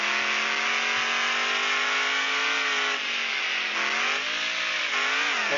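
In the game Offroad Outlaws, a rear-wheel-drive truck on sand tires drives across desert sand, its engine droning steadily with pitch dips and climbs as it shifts and revs, loud and continuous with no talk.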